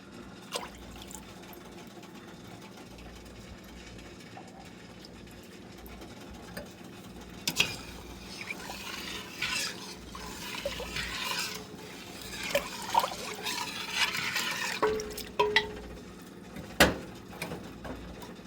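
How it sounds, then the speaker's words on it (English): Half a cup of lemon juice pours into sugar water in a cooking pot, a soft trickling and splashing with a few sharp clinks and knocks scattered through, no talking over it. "We're going to add our 1/2 cup of lemon juice to this water."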